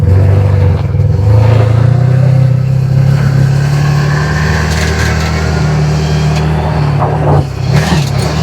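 A CFMOTO side-by-side with a clutch kit and tuned ECU drives in low range, its engine holding a loud, steady drone close by, with no talk.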